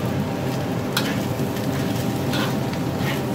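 Pork and egg fried rice sizzles steadily in a wok as scallions go in and the food is stir-fried, a close, continuous hiss with a few brief scraping accents.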